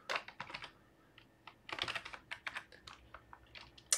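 Rapid bursts of keystrokes on a computer keyboard while code is entered in Mathematica, clicking in uneven clusters with short pauses between runs, close and fairly quiet, with no talk.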